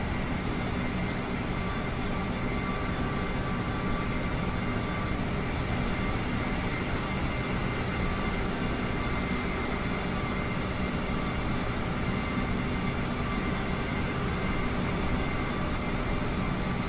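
Steady, continuous jet engine rumble from a CRJ regional jet taxiing in Microsoft Flight Simulator, a constant broadband drone throughout with no talking.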